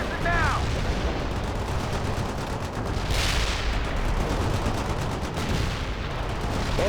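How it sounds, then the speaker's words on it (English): Armor-piercing rounds from an anti-tank squad in World in Conflict boom in a dense, continuous barrage of heavy fire with a sweeping whoosh near the middle, loud and close throughout. "Firing armor piercing now!"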